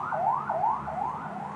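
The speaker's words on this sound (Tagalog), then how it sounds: "Teka, may ambulansya" An ambulance siren wails in a quick, repeating rising-and-falling yelp, four cycles heard moderately loud and alone.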